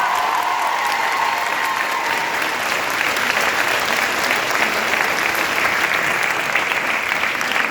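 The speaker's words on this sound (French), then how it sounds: "un tonnerre d'applaudissements pour eux" A concert audience gives the musicians a long, dense round of applause, a loud, even wash of clapping that goes on without a break, with a faint crowd murmur underneath.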